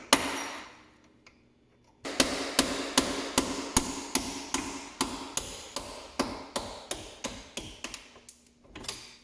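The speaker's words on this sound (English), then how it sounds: "you're gonna get your hammer and your punch, and you're gonna punch that wrist pin out of there" A hammer strikes a punch to knock out a stubborn wrist pin on a Polaris Sportsman 850 ATV: a couple of early taps, then a steady run of about twenty sharp metallic blows in quick, even rhythm, close and loud.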